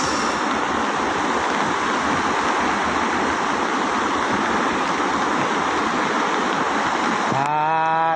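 Sea waves at Manila Bay off Navotas, a steady loud wash of surf and rushing water filling the whole stretch, with a brief tonal sound cutting in near the end.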